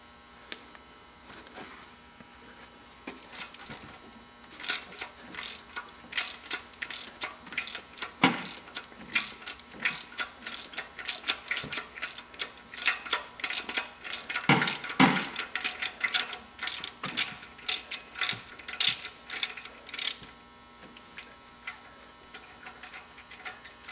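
Ratchet wrench clicking steadily as the remaining exhaust manifold bolts come off a Chevrolet Silverado 2500HD that has broken manifold bolts, a close, dense run of sharp mechanical ticks in uneven bursts with no talking.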